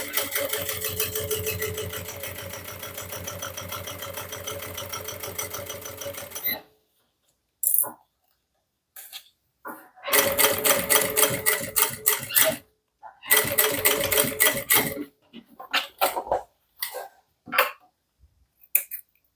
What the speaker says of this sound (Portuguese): Começo com o retrocesso para prender bem lá a minha fita dobrada.